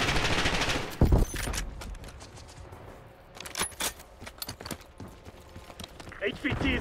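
Scattered gunfire in Call of Duty Black Ops 6, a loud close burst near the start then intermittent moderate cracks and clattering shots amid battle noise, with voices talking over parts of it.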